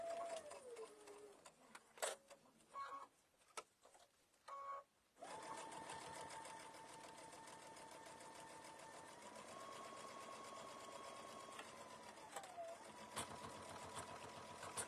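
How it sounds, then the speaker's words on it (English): A sewing machine stitches a quilted mug bag around a corner: a few short bursts with pauses, then a long steady whirring run, close and alone. "So she's stitching around the second corner."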